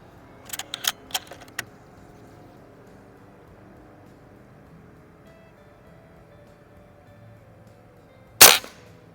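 A Beeman 1358 underlever air rifle fires pellets at a target box in a backyard: a few sharp snapping shots near the start, then quiet before one louder, closer crack near the end.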